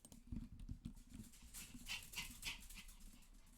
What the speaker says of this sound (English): Sorry about my dogs again.